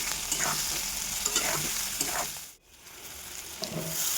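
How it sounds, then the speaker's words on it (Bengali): Potatoes with slit green chillies fry and are stirred in a pan, a steady close sizzle with repeated scraping strokes of the spatula through the whole stretch and no voices. "এবার আলুগুলো দিয়ে দিলাম, আলুগুলো একটু ভালো করে কষে নেব।"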